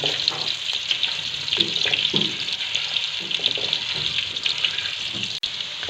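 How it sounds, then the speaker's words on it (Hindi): Potatoes fry in hot oil for a vegetable biryani, giving a steady, close, hissing sizzle dotted with small crackles and pops that runs without a break. "आलूओं को भी बहुत अच्छा सा फ्राई करना है"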